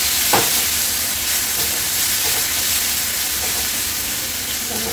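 Tomatoes with asafoetida and curry leaves sizzle and fry steadily in a pan for a fish thali, a continuous even hiss with a few faint stirring clicks near the start.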